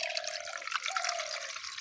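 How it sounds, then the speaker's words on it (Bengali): Water is poured over olive leaves in a bowl to wash them, a steady close trickle and splash with a faint ringing tone underneath. "তারপরে আমি এটাকে একটু এখানে জল দিব।"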